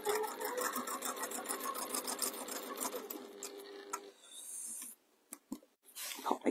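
Sewing machine stitching striped ticking fabric for a pie crust cushion, a rapid close mechanical chatter for about four seconds, then stopping with a few clicks and a short burst.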